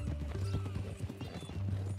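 Horse hooves clip-clopping at a brisk, regular rhythm in the video game Red Dead Redemption 2, close and clear over low ambient game sound.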